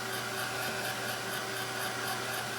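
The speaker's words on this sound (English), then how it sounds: "I'm going to dry this because I like to try and erase that graphite line" A hair dryer runs steadily while drying acrylic paint on a painting, giving a close, even, continuous whirring blow with a faint pulsing flutter and no voices.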